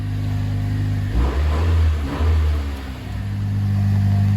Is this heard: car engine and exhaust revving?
yes